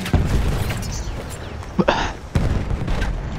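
An anti-tank grenade blast in Battlefield 1, a short booming burst near the middle amid a smoky battlefield, with a few other thumps and shots around it.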